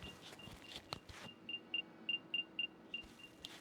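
Hammer Screen TWS earbuds with 13 mm drivers sound a find-my-earbuds alert, a faint, evenly spaced series of short high beeps repeating about every quarter second after some soft handling clicks.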